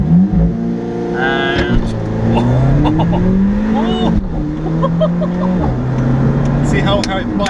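An Alfa Romeo 4C in dynamic mode launches uphill with the throttle floored, its engine revving hard and climbing through the gears in rising sweeps, while people talk loudly over it inside the car.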